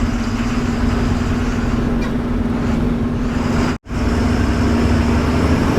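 A lorry loaded with sand, stuck in a Godavari stream, runs its engine in a steady, loud low drone with a constant hum, broken by one brief cut-out before the idle resumes.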